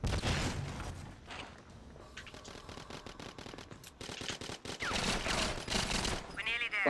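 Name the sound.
gun firing in video game GoldenEye 007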